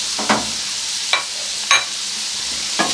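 Sliced carrots fry with sugar in a hot pan, a steady soft sizzle broken by four sharp scraping stirs of a spoon at uneven intervals, close and fairly loud.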